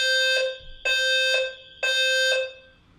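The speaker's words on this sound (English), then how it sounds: "That's a fire alarm." An apartment complex fire alarm blares in a repeating pattern of loud, shrill electronic tones, three pulses in quick succession, close and alone with no talk over it.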